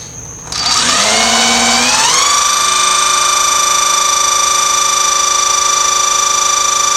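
Oil pump motor running wide open, spinning up over about two seconds to a loud, steady high-pitched whine with strong tonal harmonics that then holds constant, alone with no talking.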